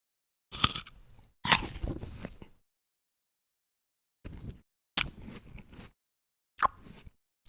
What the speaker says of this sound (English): Apple crunching sounds for sleep and reading.